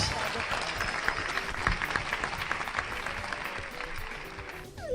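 A church congregation bursts into sustained applause acclaiming Jesus Christ, many hands clapping steadily with crowd noise, while voices call out over the clapping.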